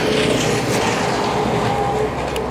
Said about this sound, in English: There goes the tractor, doing around my mailbox right now.